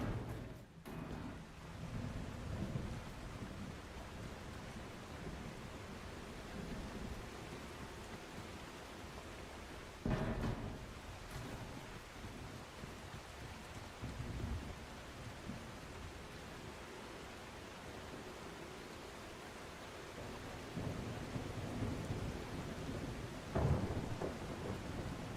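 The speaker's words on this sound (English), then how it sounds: "This storm is epic." A thunderstorm with rain in The Last Caretaker: steady rainfall hisses throughout, broken by several deep rolling thunder rumbles and sharper cracks, at moderate loudness with no one talking.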